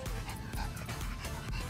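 A pug whimpers and whines while being led away from a dog park, short high-pitched yelps close to the microphone over constant loud background noise.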